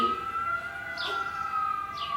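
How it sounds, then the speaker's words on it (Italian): A Red Cross ambulance siren wails continuously, its tone wavering up and down at a moderate distance, with faint bird chirps in the background. "Ecco, senti Gioppino, è la sirena della Croce Rossa"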